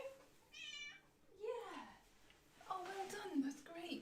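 A cat meows a few times, short rising-and-falling cries, close by, with soft voices murmuring around it.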